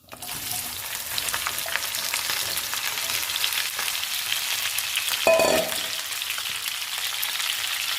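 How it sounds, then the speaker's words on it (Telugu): Okra pieces frying in a pan, a steady, close sizzle and crackle with a short stirring clatter partway through. "బెండకాయ ముక్కలు వేసుకుందాం."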